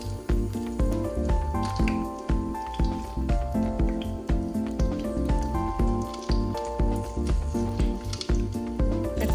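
Onions and green chillies sizzle steadily in hot oil while frying for prawn biryani, a dense close crackle and spatter with squishy pulses, over music that runs throughout.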